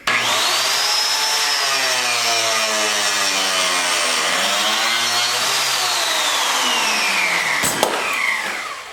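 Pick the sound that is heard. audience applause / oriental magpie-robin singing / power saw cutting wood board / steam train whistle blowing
power saw cutting wood board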